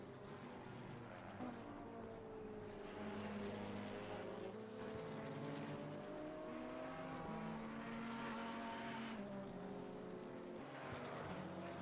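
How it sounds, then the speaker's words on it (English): A Ferrari GT race car in a racing video game takes corners at Spa, its engine droning and shifting pitch in a continuous, moderately distant whine as it rises and falls through the bends. "Love watching that Ferrari take these corners."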